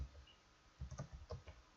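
Brief burst of keystrokes on a computer keyboard, a quick run of close, soft clicks in a quiet room.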